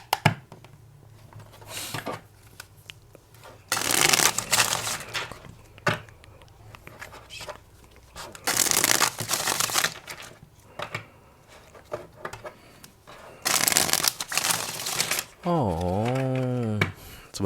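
Tarot cards are shuffled in three loud, close bursts of riffling and flapping, each lasting a second or two. Quieter handling and soft sounds fill the gaps between them.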